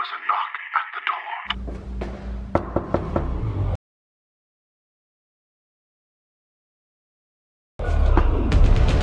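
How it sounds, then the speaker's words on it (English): Sharp knocks on a door in a zombie audio drama, a quick cluster of loud raps that follows a tonal passage, then silence before other sound resumes. "there was a knock at the door."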